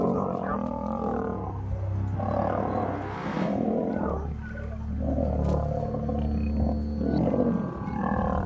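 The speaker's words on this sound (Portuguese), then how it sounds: "Eles rugiam e faziam barulhos assustadores." Lions fighting, with deep overlapping roars and growls that rise and fall continuously and sound close and loud, with no pauses between them.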